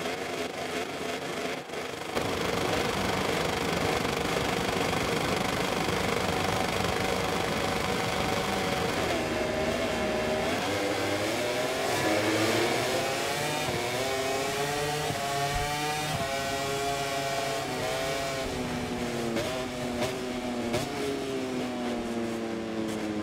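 MotoGP race bikes in the MotoGP 24 video game sit on the grid at an Italian sprint race start, a dense loud engine drone whose pitch rises and falls as throttles rev.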